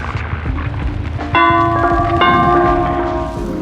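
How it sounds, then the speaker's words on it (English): The Wraith uncloaking in Dead by Daylight, marked by a resonant bell toll that strikes twice, each ringing out with a long metallic hum over a low rumbling game backdrop. "he cannot injure you until he uncloaks, which is indicated by the bell noise"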